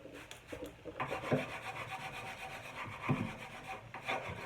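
A palette knife scrapes across wooden furniture in a few steady, rasping strokes, close and dry, with no voices.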